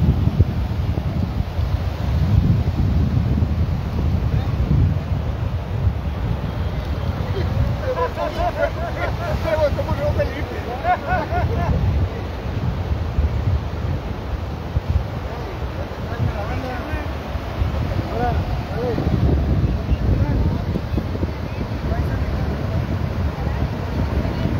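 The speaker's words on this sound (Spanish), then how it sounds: "Y pues el mar está picadón." Rough, choppy sea and strong wind at the Playa Faro-Escollera beach in Tuxpan, Veracruz, a constant roar of wind buffeting the microphone and surf. People speak in Spanish throughout.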